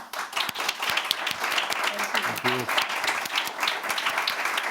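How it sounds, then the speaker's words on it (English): An audience applauds the panelists at a policy discussion event, sustained clapping throughout, with a brief voice or tone sounding under the applause midway. "big round of applause for them"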